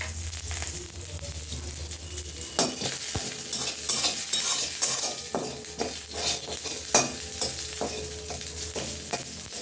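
Green chili and white mustard seeds frying in mustard oil in a wok, a steady close sizzle broken by repeated scraping stirs and light metal clinks.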